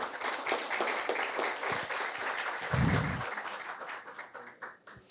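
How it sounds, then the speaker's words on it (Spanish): An audience at a social security panel discussion breaks into sustained applause that holds steady, then fades toward the end, with a brief low thump midway. "Un aplauso, por favor."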